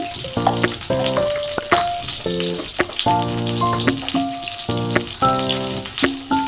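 Eggplant slices fry in hot oil with salt and turmeric, giving a constant crackling sizzle overlaid by repeated short, tonal squeaks and hisses close up.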